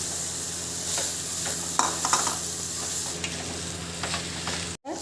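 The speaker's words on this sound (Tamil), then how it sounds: "சிக்கன் நூடுல்ஸ் போட்டு கிளறியாச்சு." Chicken noodles being stirred in a pan, with scraping strokes and a light sizzle over a steady cooking hiss and low kitchen hum, no one talking.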